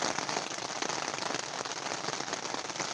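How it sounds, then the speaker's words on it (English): Steady rain falls on a tent set up outdoors, a dense continuous patter of drops on fabric with no pauses, close and fairly loud throughout. "which is a good thing because it started raining"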